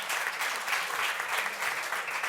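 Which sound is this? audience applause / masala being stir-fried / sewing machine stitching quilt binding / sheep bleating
audience applause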